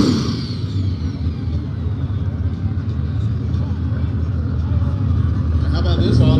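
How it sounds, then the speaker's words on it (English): Race cars at a no-prep drag racing event rumble and drone steadily at a distance, engines idling and building under a commentator's talk throughout. "I hear cars at least."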